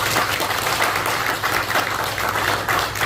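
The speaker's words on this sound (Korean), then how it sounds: "우리 모두 큰 박수와 찬사를 보내드리고 싶습니다." A church congregation at a Korean Presbyterian pastor's retirement and installation service gives a loud, sustained round of applause, dense and close, filling the room steadily for several seconds without speech.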